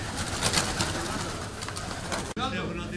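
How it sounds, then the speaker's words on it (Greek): Old genuine Tyrnavos-breed pigeons coo steadily and close together through most of the stretch, a dense, continuous murmur that breaks off abruptly for a moment near the end before resuming. "Αυτά τα περιστέρια κρατάνε, είναι τα παλιά, τα γνήσια παλιά τριναβίτικα."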